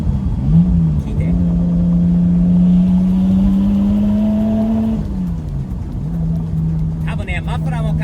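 A recently bought Nissan Skyline, fitted with new tyres and Kansei wheels, revs hard as it accelerates: a loud, steady engine drone climbs in pitch, drops back, then builds again, up close with no talking.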